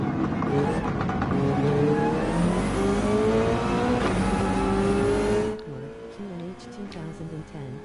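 A Porsche 911 race car in Gran Turismo 7 howls at full throttle, its engine pitch climbing through the revs before cutting off abruptly and dropping to a lower drone, loud and close.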